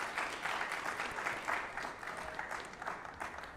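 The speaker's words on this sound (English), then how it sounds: "Can we get another round of applause for Dr." An audience at a Black excellence in higher education event applauds Dr. St. Hilaire with steady, dense clapping throughout, heard from a moderate distance and fairly quiet, with no voices over it.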